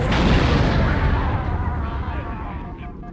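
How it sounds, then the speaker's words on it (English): Explosion in the Halo video game, a loud deep boom that hits at once and rumbles away over a few seconds. "it took a really long time for the explosion to happen there"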